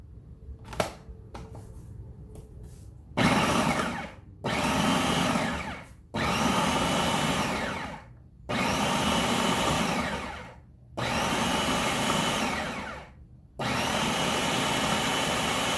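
Food processor finely chopping cucumbers for dill relish, running in six loud bursts of whirring motor and blade noise, each lasting one to two seconds with short gaps between them, after a few light clicks at the start.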